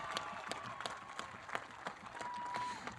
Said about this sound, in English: I want you to offer them the biggest applause for supporting you over the last 4